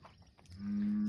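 A bull near a fence, close to a cow in heat, gives a single drawn-out low moo that rises at the end of a brief, faint outdoor evening moment.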